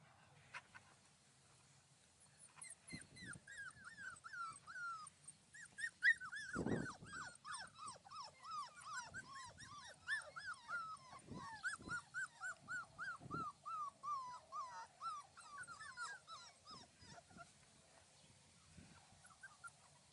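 A litter of young male puppies whimpers and yips in near-continuous, high, wavering cries, fairly faint, with scattered soft bumps and thumps between them.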